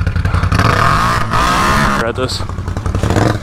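A dirt bike idles roughly and continuously after its exhaust was underwater, with a loud, sputtering engine rumble. A person talks over it.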